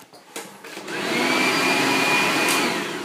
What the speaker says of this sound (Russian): Вот, это чудеснейшая вещь, фен, который называется.